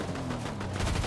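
Dense gunfire from a Fortnite match, rapid overlapping shots from two players firing at each other, loud and continuous with a heavy low rumble throughout.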